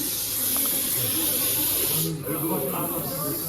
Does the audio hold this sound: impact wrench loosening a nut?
no